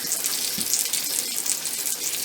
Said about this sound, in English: we're frying up some bacon in the frying pan here